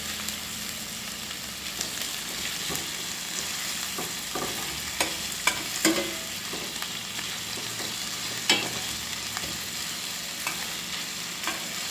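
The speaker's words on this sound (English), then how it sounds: "I'll just allow the onions to sweat a little bit for like a minute or 2" Onions sweating in a pan over medium heat for shrimp in coconut milk, a steady close hiss and gentle sizzle with occasional light scrapes and pops, no voices.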